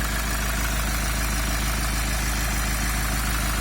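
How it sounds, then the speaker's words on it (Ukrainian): A three-litre diesel engine in an Iveco Daily van idles steadily and close by, with an even, continuous rumble and no voices. "Трохлітровий дизель працює як бензиновий."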